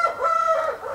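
Adult O-Shamo chickens, a rooster over two years old and a hen, give a harsh drawn-out crowing call with clucking, loud and close, filling the moment without speech.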